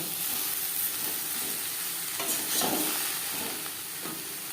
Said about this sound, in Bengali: পেঁয়াজ ও লঙ্কার সাথে ঝিঙে পটল বেশ ভালো করে মিক্স করে